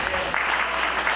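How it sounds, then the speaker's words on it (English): Audience applause at a Caribbean Commission gala, a brief burst of steady hand clapping from a crowd, loud and continuous. "So let's give them a round of applause."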